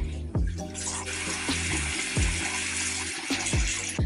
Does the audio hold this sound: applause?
no